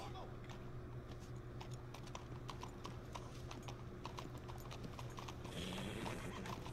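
Horse hooves clop in a steady walking rhythm in Red Dead Redemption 2, with a short whinny near the end, set over a low ambient city hum; the steps are fairly faint and evenly spaced.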